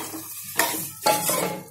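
Mushroom gravy with sesame oil being stirred in a pan on a low simmer, two distinct scraping strokes of a spoon against the metal pan over a soft background hiss.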